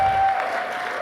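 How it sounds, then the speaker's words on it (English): Audience applause at the Cinema Eye Honors 2025 awards ceremony, a dense burst of clapping from a large room crowd that holds steady for the whole second. "Please give a huge applause to my co-producer Yves Robin"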